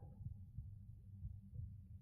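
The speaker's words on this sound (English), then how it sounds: "Got the nice heart beating sound." An activated conduit in Minecraft gives off a soft, low, muffled heartbeat, regular thumping pulses repeating steadily and quietly over a faint underwater hum.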